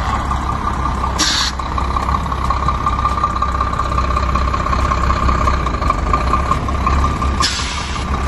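A large truck idles steadily, its engine drone continuous and close throughout, with two short hissing air-brake releases cutting in along with a faint high whine.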